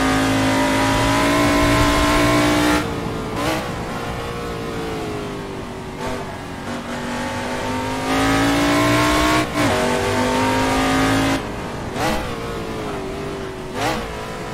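A prototype race car from the AC Legends mod roars in Assetto Corsa, revving hard through repeated upshifts and sharp drops in engine pitch under braking. The engine is loud and close throughout, with no talk.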